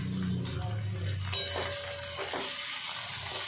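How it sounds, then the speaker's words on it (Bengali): Chopped onions hitting a pan of frying potatoes, giving a steady hiss and sizzle with a few scrapes of stirring and light clinks from the pan. "কুচিয়ে রাখা পেঁয়াজ দিয়ে দিলাম।"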